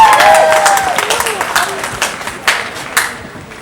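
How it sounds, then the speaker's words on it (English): Crowd applause at a Women's World Cup celebration event in Derby, a burst of clapping and some cheering that starts strong and fades into scattered claps, with a voice over it near the start. "A big round of applause, please."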